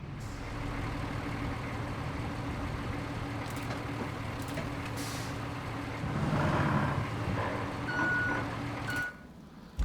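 Heavy machinery in the RoadCraft video game runs with a steady, loud engine rumble throughout, swelling briefly near the end, with faint high beeps and a short hiss over it before it cuts off.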